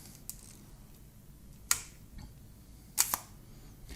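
Close, crisp camera shutter clicks: a faint tick, then a sharp snap, and later a quick double click as the shutter opens and closes again, in an otherwise quiet room.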